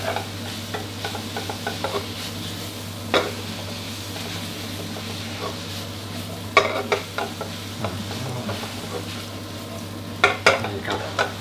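Spaghetti stir-fried with a seafood sauce in a pan gives a steady close sizzle, broken by scattered scrapes and clacks of the utensil against the pan. No one talks.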